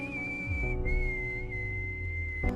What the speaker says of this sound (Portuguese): ela responde ao assobio